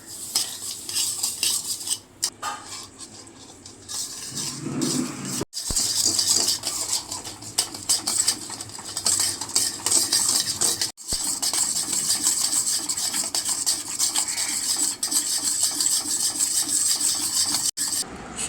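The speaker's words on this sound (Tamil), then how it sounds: "ஒரு அடுப்பில் கடாய் வச்சுட்டு சர்க்கரையை போட்டுட்டு ஒரு அரை ஸ்பூனுக்கு தண்ணி ஊற்றிக்கலாம்" Sugar and a little water stirred in a kadai for caramel, a steady metallic scraping and rubbing of a spoon against the pan that runs continuously with a few brief pauses, no talking.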